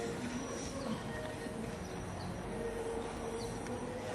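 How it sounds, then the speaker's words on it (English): A train rumbles past at Coney Island, a steady mid-distance roll of wheels on rails with faint squeals and light outdoor ambience, no talk over it. "the train went by"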